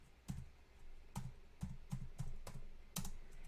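Computer keyboard keys tapped in short irregular bursts, quiet and close, with soft clicks spaced a fraction of a second apart and no speech.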